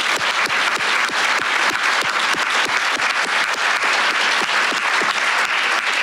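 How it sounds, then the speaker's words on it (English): Sustained, loud audience applause at a cyber challenge awards ceremony honoring a university president, steady dense clapping throughout with no speech over it. "Let's give him a big round of applause."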